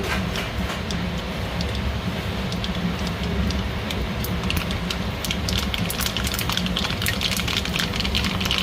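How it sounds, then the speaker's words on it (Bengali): Mustard seeds sputtering in hot oil, a loud, dense crackle of rapid pops that continues without a break, with no voices over it. "তেল গরম হয়ে গেছে, তেলে দিয়ে দেবো সর্ষে"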